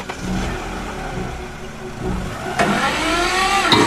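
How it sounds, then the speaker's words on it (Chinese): A cartoon tractor engine drives up, its steady mid-range motor hum rising into a couple of louder revving surges near the end, with no voices. "半个小时后，刘志豪开着拖拉机过来了"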